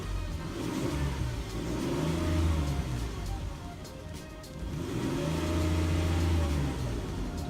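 A 2004 Ford Explorer engine revs up twice in a row, each rise swelling to a loud mid-pitched roar and settling back, heard nearby with no talking.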